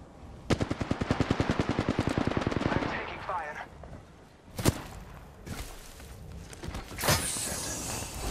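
Gunfire in Apex Legends, with a rapid, steady automatic burst of about two seconds followed by a few separate loud shots and clatter.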